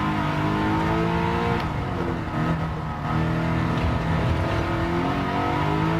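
A race car engine revs hard in Gran Turismo, loud and continuous, climbing through the gears with a brief dip in pitch at a shift, alone with no voice over it.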